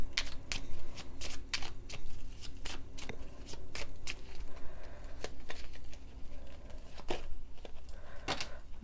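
An Under the Roses Lenormand card deck is shuffled by hand in a quiet room, with soft repeated riffling and sharp card snaps spaced irregularly across several seconds, close to the microphone.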